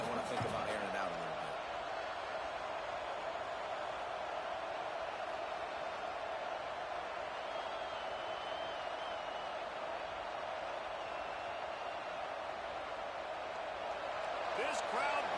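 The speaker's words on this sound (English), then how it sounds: "This crowd bringing the energy and noise early" A college football stadium crowd roars early in the game, a broad, sustained wall of distant cheering and noise with a play-by-play voice talking over it.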